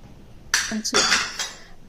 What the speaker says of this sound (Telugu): ఇది మొత్తం కర్డ్లో మంచి మిక్స్ అయ్యేటట్లు మంచి మిక్స్ చేయాలి.